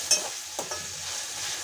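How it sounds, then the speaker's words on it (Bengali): Dried loitta fish (shutki) with turmeric and salt frying in a pan over high heat makes a soft, steady sizzle, with a few sharp scraping stirs near the start and no talk. "এখন আমি শুটকিগুলো খুব ভালোভাবে একটু ভেজে নেব"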